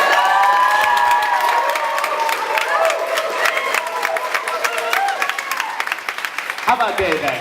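Wedding guests clap and cheer loudly for the bride at the toasts, a dense burst of applause with whoops and shouts that tapers off, followed by brief talking near the end.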